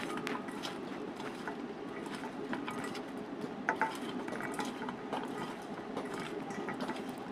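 Sliced star fruit tossed with salt and dried chili makes a steady, close wet rustle and soft scraping against a bowl, continuous throughout with a couple of slightly louder knocks midway.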